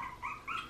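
A puppy whimpers twice in quick succession, each a thin, high, fairly faint whine, with no talking over it.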